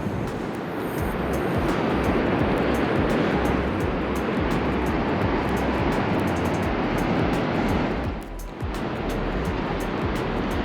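Surf rolls onto the beach at Cannon Beach, Oregon, a loud, continuous broadband wash of breaking waves with a brief dip near the end, no talking.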